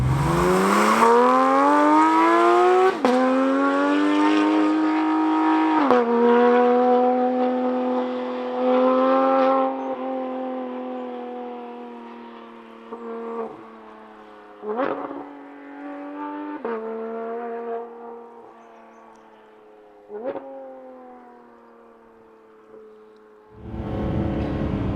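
A Porsche GT3 RS with an IPE exhaust revs hard and loud, rising and falling in several throttle blips with sharp pops, then settles into a throaty idle before a final surge.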